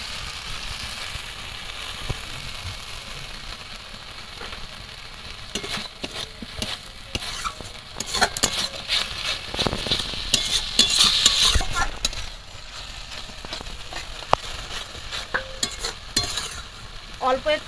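Spiced masala paste with tomato ketchup stirred and fried in a pan for a Bengali-style pomfret fish curry, giving a steady sizzle and repeated scraping stirs that grow louder toward the middle, with no voices.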